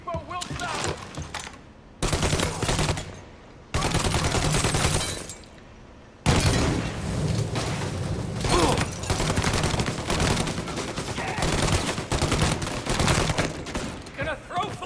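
Rifle and automatic gunfire in the Mafia Definitive Edition video game, dense bursts that cut off and restart, then a long sustained stretch of shooting, loud and close, with shouted voices mixed in.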